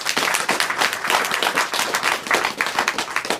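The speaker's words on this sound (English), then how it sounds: "Let's have a round of applause for all our team members." An audience at a Goodwill press conference breaks into applause, a dense, lively patter of many hands clapping at once that stays fairly loud and even throughout, with no voices standing out.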